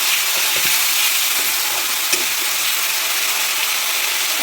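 Ginger paste and tomato fry in a pan for a Bengali dry cabbage and peas curry, a loud, dense, unbroken sizzle with faint stirring ticks and one small clack midway.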